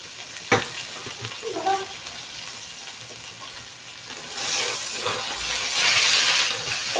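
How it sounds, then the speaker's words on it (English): Steady sizzling and crackling of low-fat beef frying in a hot pan, loud and close, with a few clattering stirs and the hiss rising toward the end. "And this is a very low fat beef. Yeah, hear the sizzle?"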